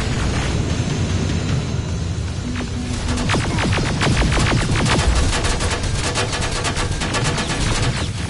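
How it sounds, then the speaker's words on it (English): Sustained gunfire in the video game Terminator: Resistance, a dense, loud stream of rapid rifle shots fired continuously amid heavy combat noise, with no talking during the burst. "Don't stop shooting!"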